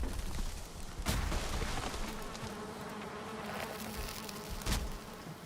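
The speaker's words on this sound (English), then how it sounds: "Oh, the bees are not happy." Angry bees in the video game Valheim buzz in a dense, close, continuous drone, punctuated by a couple of sharp impact thuds, with no talking.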